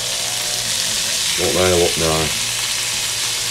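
Chicken pieces sizzling steadily in a frying pan for a creamy garlic chicken dish, a continuous close hiss with someone speaking briefly over it.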